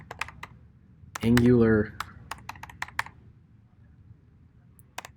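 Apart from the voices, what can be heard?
typing a command on a computer keyboard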